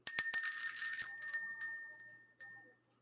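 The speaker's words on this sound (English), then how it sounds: "So let's ring the bell." A small bell rung by hand, a cluster of rapid bright clangs followed by several spaced single rings that fade out, clear and close with no voices.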